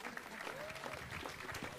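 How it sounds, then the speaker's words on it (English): Applause from the audience at a city council meeting, a dense burst of clapping that carries on steadily for a couple of seconds at a moderate distance. "a special round of applause for Esther"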